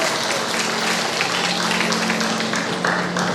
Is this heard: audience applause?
yes